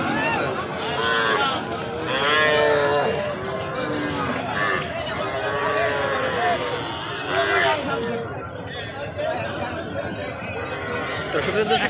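Five-to-seven-month-old Nepali Gir bull calves moo repeatedly at a crowded traditional cattle market, loud and close, with traders talking and chattering throughout.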